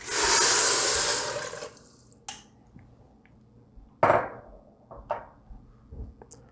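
Four cups of water poured into an Instant Pot of Guyanese dhal with tomatoes and spinach: a loud rushing pour up front, then scattered clinks and knocks of the pot and utensils.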